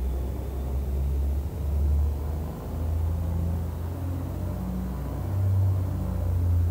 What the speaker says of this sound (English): And now we'll start the left engine